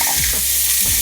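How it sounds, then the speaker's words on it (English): Ribeye steak searing in a hot oiled pan, a loud, steady crackling sizzle that holds at the same level the whole time, close and with no talk. "So we're gonna let these steaks get a nice sear."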